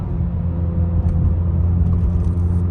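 Inside a 2018–2022 Honda Accord Sport slowing for a sharp turn while downshifting, a loud, steady low engine and road rumble fills the cabin, with no speech.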